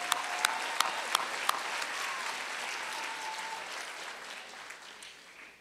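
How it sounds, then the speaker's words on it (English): Audience applause at a fall convocation ceremony fills the hall with a dense, steady clatter of many hands, a few sharp claps standing out at the start before it gradually fades. "So let's give this audience a hand of applause."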